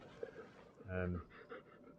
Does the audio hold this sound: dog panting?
yes